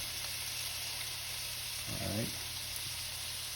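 Shrimp sizzle in a pan while pasta cooks, a steady soft crackle and hiss throughout, with a brief spoken word and a faint utensil sound partway through.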